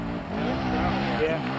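A dirt bike engine revs high during a wheelie at the 1994 ISDE enduro in Sand Springs, Oklahoma, a brief buzzing whine under a voice talking over it.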